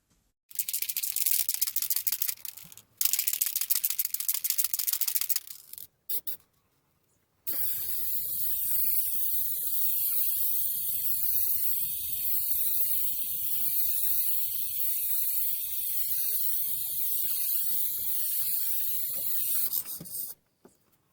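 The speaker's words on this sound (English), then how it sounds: "As always, when using spray, wear a mask, protect your lungs." An aerosol can sprays sealant onto a cot bed in two short hissing bursts, then a long continuous spray with a faint rattle, stopping abruptly.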